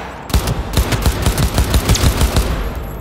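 Loud, close rapid gunfire during a training session in Cyberpunk 2077, a steady stream of sharp shots fired in quick succession with hardly a pause over a few seconds.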